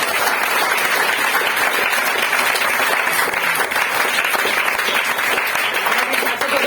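An audience at an office product training programme claps continuously, a dense, loud and even wash of applause from many hands throughout.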